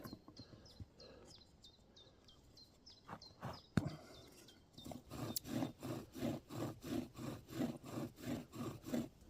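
A hand tool works into wood to pre-drill a hole for a bow-drill fire set outdoors in the forest, first in scattered scrapes, then settling into a steady, rhythmic back-and-forth rasping stroke, close and clear, while birds chirp faintly behind.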